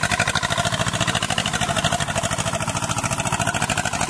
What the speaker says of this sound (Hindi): देखो जी हम कैसे जड़ों को बाहर निकाल रहे हैं ट्रैक्टर से टोचन के साथ